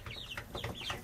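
Adult hens cluck softly in a coop from up on the roost, a quick cluster of throaty calls over a steady low background hum.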